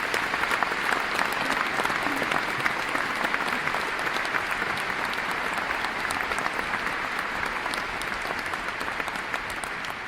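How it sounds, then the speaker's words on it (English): An audience at a Romeo and Juliet reading claps loudly and continuously for the cast, a dense, even wash of applause that tapers slightly toward the end. "please give a big round of applause for the cast of Romeo and Juliet"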